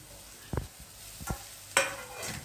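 Hyacinth bean pods with turmeric are stirred in a pan, with a few scraping strokes of the spoon over a faint, low sizzle, quiet and close, with no voices.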